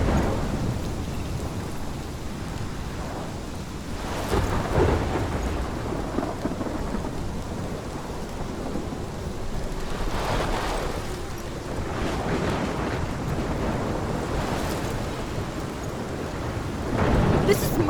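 A thunderstorm in the video game Life is Strange, with heavy rain pouring steadily and deep rolling thunder rumbling in and out for the whole stretch, loud and close, with no voices.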